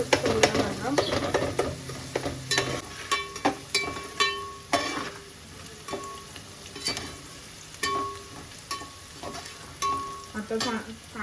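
Onion sizzling in oil in a home kitchen pan while a spoon scrapes and stirs it, a steady fry under repeated sharp metallic clinks and scrapes.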